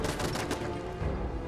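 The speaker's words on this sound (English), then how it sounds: "Oh, that's grenade." In the video game Fallout 4, a grenade goes off amid dense combat: a continuous barrage of sharp blasts and rapid gunfire-like bursts, loud and close, with no talk.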